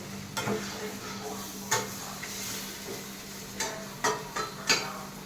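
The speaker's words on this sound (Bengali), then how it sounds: "আর হালকা নাড়া দিব" Chicken meatball mixture being stirred in a pan, a soft continuous sizzle with intermittent scraping clicks of a utensil against the pan, close and fairly quiet, no talking.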